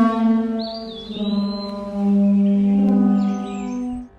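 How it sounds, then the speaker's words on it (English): A simulated Parasaurolophus call, made by air flowing through the dinosaur's crest, comes as a deep, resonant, horn-like hooting drone, loud and close, that wavers, swells and holds for about four seconds before cutting off. "enabling researchers to simulate the sounds this dinosaur could produce as air flowed through its distinctive"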